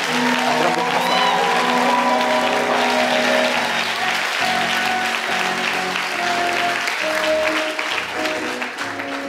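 A church congregation claps and cheers loudly in praise of God, sustained applause mixed with shouts, and a voice rises over it before the noise slowly thins out.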